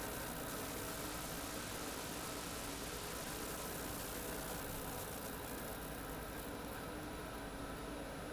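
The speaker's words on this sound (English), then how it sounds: "Excuse the noise in the background, it's the boiler." Steady broadband hum of a household boiler running in the background, constant and even throughout with no talk over it.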